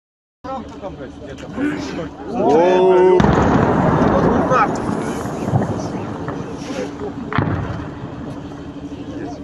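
Series of heavy blasts at an ammunition depot in Russia, with deep booming detonations and rolling rumble carrying over a loud, sustained roar, heard from a distance while people talk and shout nearby.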